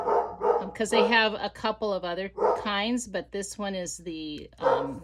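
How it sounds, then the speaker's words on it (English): A pet dog barks intermittently in a home craft room, the yaps scattered under steady close talk from a woman describing glue. "I don't know what he's barking at."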